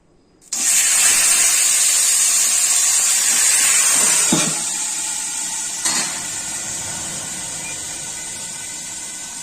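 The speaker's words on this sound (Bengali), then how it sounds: "দেখুন আলু ভাজা তেলের মধ্যে এই যে ম্যারিনেট করা মাংসটা এখন ছেড়ে দেব।" Marinated mutton drops into hot oil left from frying potatoes, bursting into a sudden loud hissing sizzle that holds strong, then gradually eases while staying steady, with a couple of brief knocks.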